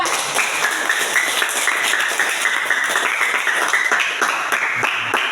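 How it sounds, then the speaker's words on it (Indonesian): Steady clapping from a classroom audience for a student group presenting handmade pencil holders, flowers and savings boxes, many hands patting densely and continuously at close range with no voices over it. "tepuk tangan untuk kelompok 4"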